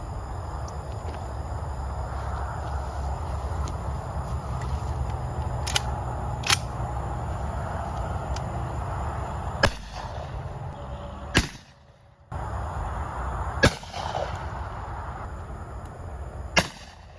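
Gunshots are fired into wood outdoors at a driveway being turned into a pond, sounding as sharp, isolated cracks spaced a few seconds apart over a low steady background rumble.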